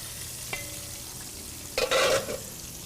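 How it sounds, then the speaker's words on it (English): A utensil whisks stuffed-jalapeño filling with onions in a bowl, a brief burst of quick scraping strokes after a single tap, nearby and fairly clear against a quiet room. "Just want to kind of whisk that up"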